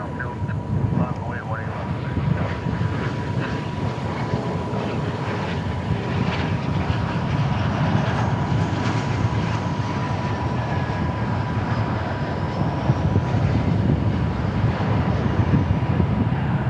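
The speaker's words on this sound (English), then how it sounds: "In from Durango, that's CRJ 700." A CRJ 700 jet airliner at DFW Airport gives a loud, steady, broad engine roar that holds for the whole stretch, with speech in the background.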